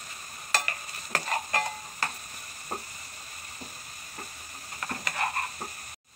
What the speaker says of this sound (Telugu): మనకి చక్కగా ఆనియన్స్ కూడా బాగా ఫ్రై అయిపోయినాయి